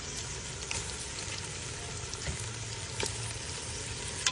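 Garlic and onion sizzle steadily in hot oil as the base for a Shinwari beef karahi, a continuous close frying hiss with occasional soft stirring knocks and no talking.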